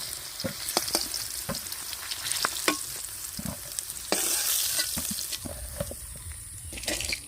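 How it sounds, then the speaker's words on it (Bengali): Potatoes fried in oil until reddish in a home kitchen while cooking Patnai-style chicken, with crackling sizzle under scattered stirring clinks and scrapes, a louder burst of frying midway, no talk. "আলুগুলো লাল লাল করে ভেজে নিয়েছি নামিয়ে দিচ্ছি"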